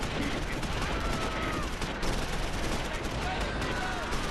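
Mortar and gunfire in the World War II strategy game Close Combat V form a dense, continuous crackle of distant shots and explosions throughout, with no clear voices.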